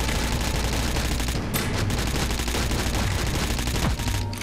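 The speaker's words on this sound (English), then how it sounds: "Let's try the SMG. Yeah, the SMG is pretty weak." Rapid SMG fire in the video game Astroswarm, a continuous dense stream of shots running nearly the whole clip over busy game effects.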